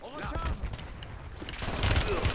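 Gunfire in the video game Warzone (Black Ops 7), sharp bursts of shots popping in a fusillade, some nearer and some distant, with voices speaking over the action.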